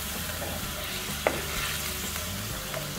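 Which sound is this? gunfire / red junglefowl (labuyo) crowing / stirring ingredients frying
stirring ingredients frying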